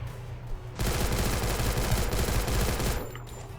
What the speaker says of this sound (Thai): ปืนกลเจาะ